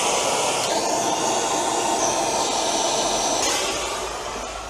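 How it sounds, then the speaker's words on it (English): A MAP Plus gas torch heats the casting around a BMW E46 alternator bolt, producing a steady, loud roaring hiss that holds constant and then fades slightly at the end, with no talk. "use the Mat Plus torch to heat up the casting around the bolt"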